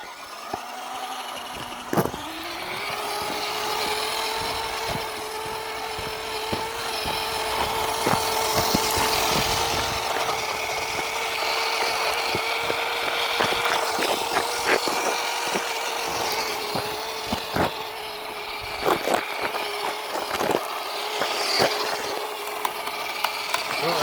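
A WPL C24-1 RC truck fitted with a Fayee 180 motor drives down a driveway, its small electric motor whining at a steady pitch, with sharp clicks and knocks from the drivetrain scattered throughout.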